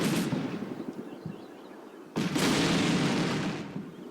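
A Javelin missile strikes and destroys a Bradley fighting vehicle in the wargame Combat Mission Black Sea, with a faint boom early on, then a loud explosive blast that rumbles and fades over a couple of seconds.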